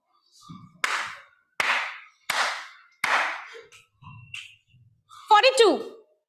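Four sharp hand claps or finger snaps in even succession used as a number signal, fairly close, with faint voices and a brief whistle-like sound at the end.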